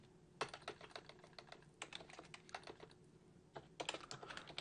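Code is typed on a computer keyboard in quick, irregular bursts of close, crisp key clicks with a short pause in the middle, quiet overall and with no talk.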